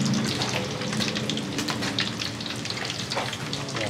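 Fish frying in oil in a pan gives a steady, dense sizzle and crackle throughout, close and even with no pauses.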